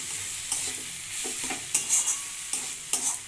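Crushed dry chili stirred into a greens curry in a pan, with soft frying sizzle and several distinct clattering spoon scrapes at irregular intervals, close and moderately quiet, with no speech.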